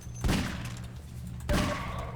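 Two heavy, booming revolver gunshots in Half-Life 2 ring out about a second apart, each with a short echoing tail over a low background rumble.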